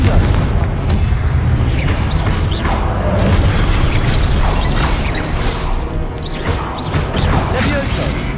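Booming spell blasts from the Confringo fire curse in Hogwarts Legacy, loud continuous rumbling impacts and crashes layered with combat noise, with a voice speaking throughout.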